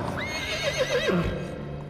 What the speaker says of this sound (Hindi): जनरल रूट ने अपना घोड़ा रोक दिया।